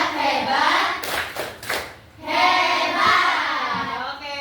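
A group claps along to a Malay tepuk hebat chant, with bursts of rhythmic hand claps and cheering voices, loud and close, briefly dropping before rising again.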